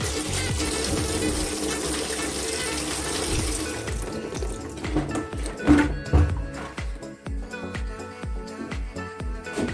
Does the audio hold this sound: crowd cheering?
no